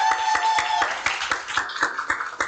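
Meeting attendees clap together in a quick run of sharp, close claps, with a faint voice at the start.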